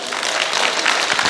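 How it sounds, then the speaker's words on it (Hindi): An audience claps loudly at a security services wing session on self-empowerment, a dense, continuous burst of many hands applauding with no talk over it. "भगवान के लिए ताली तो बजाइए जोरदार।"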